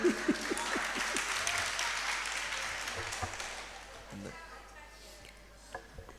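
A gathering at a Hindi religious discourse breaks into applause, strongest at the start and gradually thinning to scattered claps, with a voice speaking briefly underneath.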